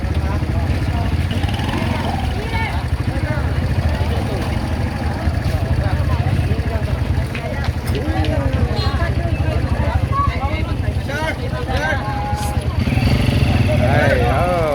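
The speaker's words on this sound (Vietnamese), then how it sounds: "Đó, một chiếc xe máy rồi đèo nguyên cái thùng kế bên." A motorcycle fitted with a sidecar cart with a roof and seats runs steadily close by on a street in Boracay, a continuous engine rumble with people talking over it.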